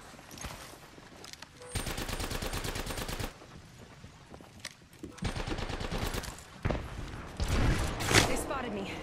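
Bursts of automatic gunfire from two attacking squads in a video game battle, coming in several sustained volleys separated by short pauses, loud and close, with a player speaking over parts of it.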